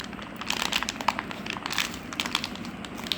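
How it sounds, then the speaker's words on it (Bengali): A packet of poultry medicine is wrapped up by hand, giving close crinkling and crackling of packaging in quick irregular bursts for a few seconds. "ওষুধটি নেওয়ার পরে ওষুধটি ভালো করে মুড়িয়ে রাখবো"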